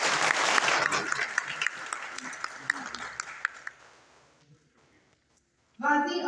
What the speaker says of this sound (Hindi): 3 तालियां तो बजाएं जरा।